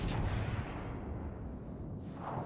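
A heavy warship gun salvo booms in the naval combat game World of Warships, a loud, dense rumbling blast that fills the whole moment and trails off into a low roar.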